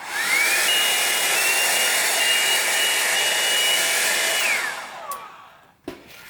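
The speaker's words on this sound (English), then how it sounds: "So I do have a hairdryer" A hair dryer blows steadily on cardboard craft pieces, a loud continuous whooshing roar that winds down and clicks off near the end, followed by a soft knock.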